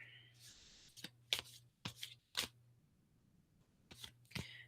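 Tarot cards are shuffled in short, crisp riffling bursts with gaps between them, faint and close, over a low steady hum.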